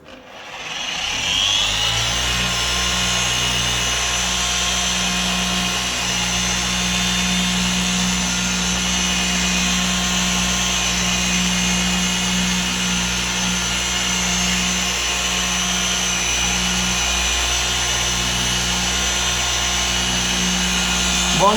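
Small power polisher buffing the bodywork of a Ford Escort Series 1 Turbo, a steady continuous whirring hum running close and loud throughout without pause.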